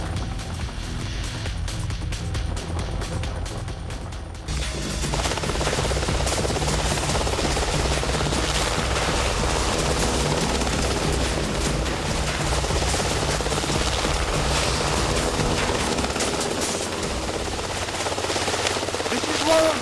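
A helicopter flies overhead on the way into a rainforest, its rotor roar loud and steady throughout with a dense wash of chopping noise, heard close and without talk.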